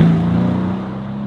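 A Mercedes-AMG C63 S with 510 hp rumbles on a track, a loud, close, deep engine drone holding a steady low pitch that eases slightly over a brief moment.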